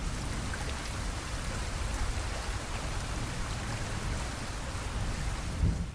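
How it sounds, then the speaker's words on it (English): Steady rain falling, a dense continuous patter of drops on surfaces with no voices, holding an even level throughout. "It is raining now"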